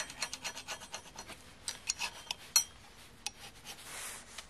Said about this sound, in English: You can see I got the gasket surface all cleaned off.